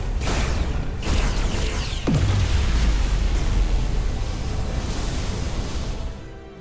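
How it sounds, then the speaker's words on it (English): A dilithium explosion in Star Trek: Resurgence booms loudly, with a sharp blast followed by a sustained roaring rumble that slowly fades out. "Dilithium explosion."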